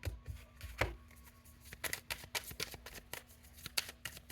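A deck of tarot cards is shuffled up close, with a quiet run of irregular crisp card flicks and riffling snaps. There is no talking.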